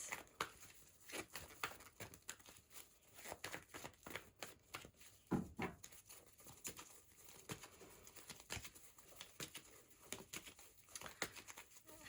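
Tarot cards are shuffled and drawn close to the microphone, producing a steady run of soft riffling flicks and papery slaps at low volume with no talking.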